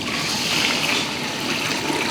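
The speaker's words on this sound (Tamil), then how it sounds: "தண்ணி ஊற்றிடுறேன்." Water poured into a large pot of sambar rice with sautéed vegetables and spices, a steady rushing, splashing flow lasting throughout, close and moderately loud.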